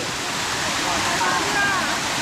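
A continuous rushing roar of a hot-spring waterfall in Krabi, Thailand, steady and close, with faint voices mixed in underneath.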